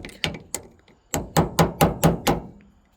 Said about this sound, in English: this is why I have my brass hammer. Sticking that socket in there and just tapping it real